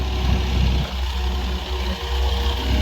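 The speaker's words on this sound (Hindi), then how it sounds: "आप ट्रैक्टर की आवाज़ सुनो।" A Massey 9500 Smart 4WD tractor pulling a 3MB plough through a sugarcane field, its low engine drone steady and close, with slight surges in load and no talk.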